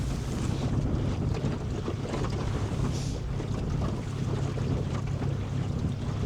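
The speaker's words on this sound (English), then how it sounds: "So this is pushing the boat against the wind, you know, in a heavy rowing boat" A heavy rowing boat driven by a battery-powered electric motor pushes against the wind, giving a steady low hum under continuous broadband wind rush and water noise, with no talking.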